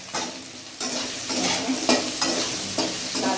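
Sliced onions with salt sizzle in a hot pan while a spoon stirs them, with scraping strokes giving a steady frying hiss and several sharp surges as the onions are moved around.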